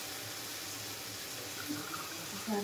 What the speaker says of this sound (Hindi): फिर इसमें पानी डाल देंगे।